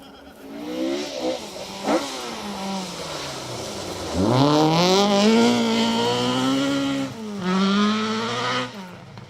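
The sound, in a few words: Peugeot 306 Maxi rally car engine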